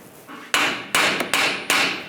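A hammer strikes a strut on a 1998-2010 Volkswagen Beetle four or five times in quick, slightly uneven succession, each hit a bright, close metallic clank with no talking.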